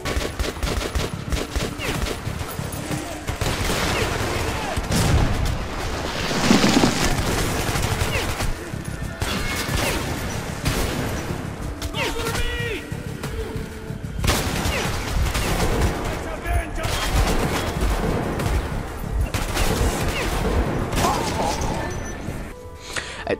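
Gunfire in the video game Metro 2033 Redux: dense, loud automatic fire and impacts hammer away almost continuously, mixed with clashing hits and game sound, with no speech in between.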